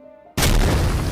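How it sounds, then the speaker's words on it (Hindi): A sudden, loud explosion boom bursts in after a brief quiet musical passage and sustains as a heavy rumbling roar, standing for a rock or boulder smashing onto a speeding car on a rainy mountain road in a dramatized audio story. "तभी एक जोरदार धमाका हुआ।"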